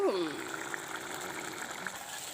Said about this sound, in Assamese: এতিয়া মই ইয়াতে পানী দি দিছোঁ